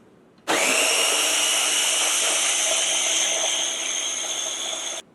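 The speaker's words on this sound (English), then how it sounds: "now we're going to blend it so we can enjoy it" A blender blending watermelon mint juice starts abruptly and whirs at a loud, steady high pitch for several seconds, then cuts off.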